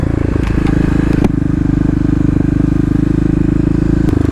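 A Kawasaki KLX351 dirt motorcycle with its secondary throttle blade removed revs steadily and loud nearby, a buzzing single-cylinder engine note with a brief throttle blip early on, building for wheelies.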